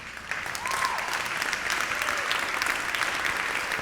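An audience at an Unreal Engine user group event at SIGGRAPH bursts into applause, a dense and steady clapping from a sizable crowd that holds at full strength throughout.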